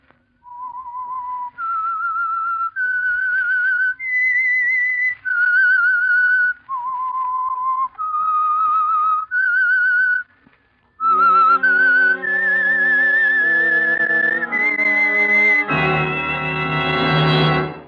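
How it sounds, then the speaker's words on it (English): A clear whistled melody of sustained single notes, steady and close, ending with a brighter, fuller chord-like swell. "That whistle is your signal for the Signal Oil program"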